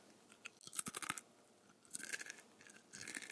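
Close-up crunching and chewing of stale potato chips in short bursts, with pauses between bites, loud and near.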